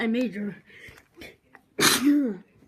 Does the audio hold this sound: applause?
no